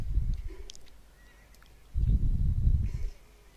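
Horse neighs in the Mount and Blade Warband video game during a battle, two loud whinnying bursts with a quiet gap between, the second longer and fuller.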